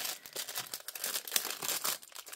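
Paper envelope torn open and crinkled up close, a dense run of crackling rustles and rips with one sharper snap partway through, no voice over it.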